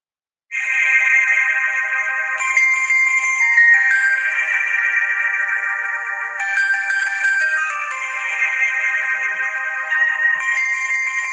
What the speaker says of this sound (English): This is my favorite ringtone from Motorola.